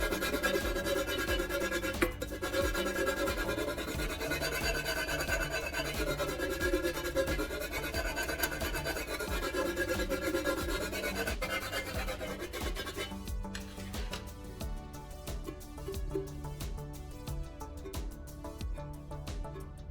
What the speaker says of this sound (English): I keep filing carefully until no excessively sharp points remain anywhere